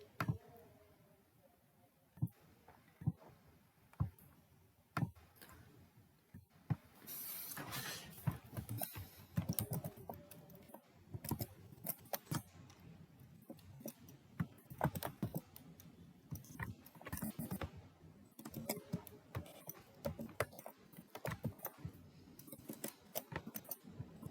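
Fingers type a command on a computer keyboard, producing quiet, irregular clicks and taps that come in uneven bursts with short pauses between them.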